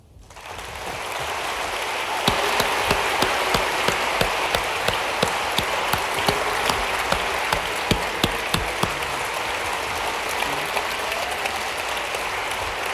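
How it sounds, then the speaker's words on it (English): An audience at a debate on the reliability of New Testament texts bursts into sustained applause, a dense wash of many hands clapping that swells quickly and holds steady until the end. "Let's give both of them one more round of applause."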